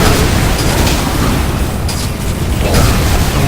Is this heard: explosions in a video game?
yes